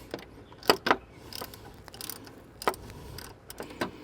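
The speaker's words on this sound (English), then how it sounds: "I'm going to start loosening this bolt up." A ratchet loosens a radiator fan bolt on a 2013 Chrysler 300 base model, heard as a run of irregular close clicks and clacks from the pawl, fairly quiet, with no talk.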